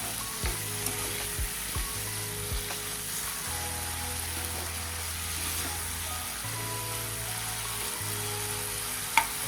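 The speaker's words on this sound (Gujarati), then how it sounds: "હવે આપણે બાફેલી સિંગો ઉમેરીશું, જે એક સિંગને આપણે 2 ભાગમાં ડિવાઈડ કરી દીધી છે। તેને સારી રીતે મસાલા સાથે મિક્સ કરી લેશું।" Boiled drumstick pieces are stirred through sizzling oil and spices for a drumstick sabji, giving a steady close frying hiss with occasional scraping stir sounds, and no talk.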